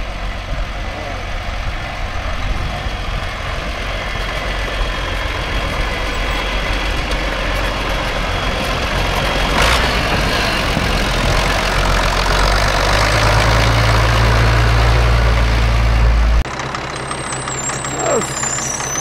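A Zetor tractor engine idles in a farmyard with a loud, steady low diesel rumble that grows heavier toward the end before cutting off abruptly, while voices speak faintly in the background.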